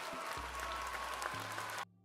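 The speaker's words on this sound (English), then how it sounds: "We have a concert hall applause now instead of a stadium applause." Concert hall applause plays as a sound effect during a live stream: a steady wash of clapping hands that cuts off abruptly near the end, mixed with faint low musical tones.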